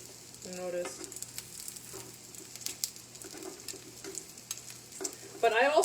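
Garlic fries in olive oil on an electric stovetop, with a soft crackling sizzle and scattered spits and pops, plus occasional stirring scrapes and a brief whistling tone near the start.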